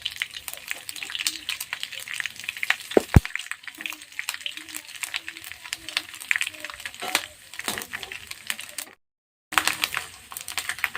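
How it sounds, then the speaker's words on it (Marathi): Chivda ingredients fry in hot oil with a dense, steady crackle of quick pops and spatters close by, broken by a brief silent gap near the end. "दोन मिनटं छान तळून घेत आहे बघू शकता तुम्ही तेल छान असं गरम झालेलं आहे"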